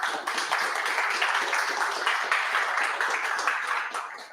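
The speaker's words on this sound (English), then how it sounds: "Let's get another round of applause for Gina." An audience applauds at the close of a talk on PHP's type system, a steady wash of many hands clapping that holds evenly for several seconds before easing slightly at the end.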